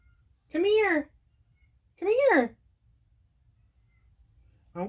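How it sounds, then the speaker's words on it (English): A cat meows twice, clear and close, with a third meow starting at the end; quiet between calls. "That is one of my cats meowing."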